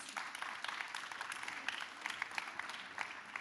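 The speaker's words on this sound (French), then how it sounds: "Vous pouvez les applaudir." Audience applause at a French panel talk show, a steady, fairly faint wash of many hands clapping continuously for several seconds with no speech over it.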